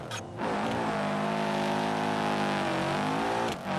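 Sunburst car engine in the BeamNG driving game, a steady loud rev with clear harmonic drone sustained for several seconds, briefly dipping near the end, with no talk over it.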